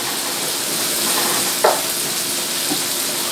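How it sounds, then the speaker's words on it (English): Garlic frying in a pan as it is kept moving to stop it burning. A loud, steady sizzle runs throughout, with a brief scrape from stirring partway through. "You want to keep moving it around so that the garlic doesn't burn."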